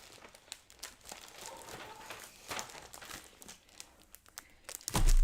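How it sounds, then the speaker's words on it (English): A pack of craft paper crinkles and rustles as it is handled, with irregular close crackles and soft scraping that swell near the end. "Here's the paper pack that we're going to use with it."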